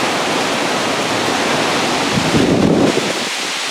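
A thunderstorm in Alberta brings loud, roaring wind and heavy rain, a dense, continuous rush of noise close to the microphone that swells briefly near the end.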